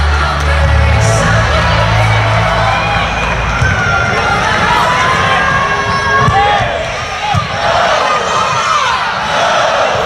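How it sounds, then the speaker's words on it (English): A packed arena crowd roars and shouts without pause at set point of a Big Ten versus SEC college volleyball match, Ohio State against Florida, loud and dense for the full stretch with whoops rising above the din. "So let's listen into this crowd."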